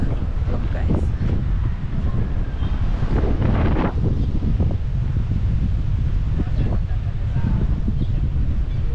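Strong wind sweeps a Boracay beach, pounding the microphone with a loud, steady low roar, a faint wash of surf behind it and brief voices breaking through.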